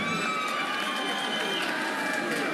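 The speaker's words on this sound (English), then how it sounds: "Ladies and gentlemen, give a round of applause to Caleb Chitana." Crowd at a boxing match cheering and applauding a first-round knockout winner, a loud, dense, continuous roar with clapping and shouts filling the whole stretch.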